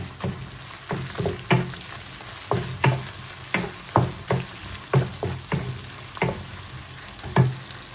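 Onions frying in a pan for pork curry, with a steady sizzle under a series of sharp scraping stir strokes spaced irregularly through the clip, close and moderately loud, no voices.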